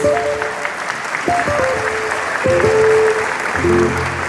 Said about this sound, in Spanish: vamos a darles por favor un fuerte aplauso a todos nuestros invitados